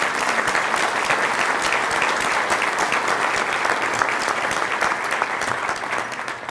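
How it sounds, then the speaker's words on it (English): Business leaders in an audience give a dense, sustained round of applause honoring first responders, the clapping loud and continuous with no voices standing out. "all of that applause is for all of those who responded in that moment"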